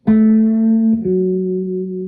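A single sustained guitar note is bent a quarter tone, its pitch shifting slightly before ringing on. Clear, close and without talking.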